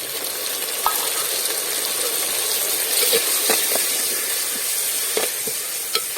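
Tomatoes sauté in hot oil in a pan for a catla fish curry with mango, giving a steady loud sizzle broken by occasional soft clicks from stirring.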